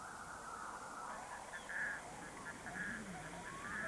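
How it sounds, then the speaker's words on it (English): Faint honking calls from a flock of lesser snow geese on the tundra, repeated and overlapping at a distance over a soft background hiss. "millions of birds, like the lesser snow geese, migrate to the tundra to nest"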